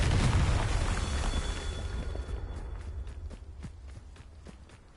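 A Confringo blasting spell goes off in Hogwarts Legacy as a loud, booming blast that rumbles and fades over several seconds, followed by quick running footsteps as the roar dies away.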